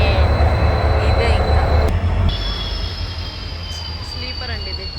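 A train rumbles loudly and steadily nearby, with metallic wheel squeals and a high whine riding over the low roar.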